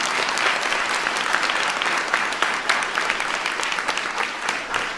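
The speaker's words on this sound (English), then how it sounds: "Give Olivia a big round of applause." A science fair audience applauds Olivia with dense, steady clapping that fills the whole stretch at an even, sustained level, with no voices on top.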